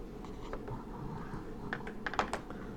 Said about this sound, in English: I'm taking my mouse, I'm using my keyboard.